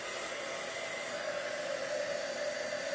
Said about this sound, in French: je vais faire du bruit, je suis désolée, mais je vais aller chauffer au complet mon carton